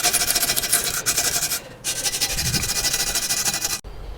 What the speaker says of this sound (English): cleaned it all up as best as we can with a wire brush